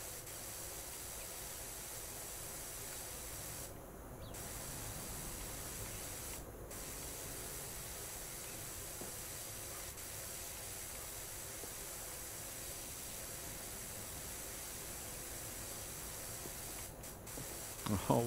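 A pressure washer sprays plastic in the game PowerWash Simulator, a steady faint hiss running nearly the whole time with a couple of brief gaps.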